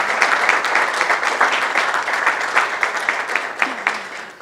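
A workshop audience applauds a representative whose funding made the agenda possible, giving steady, dense clapping close by that carries on throughout with a few louder individual claps.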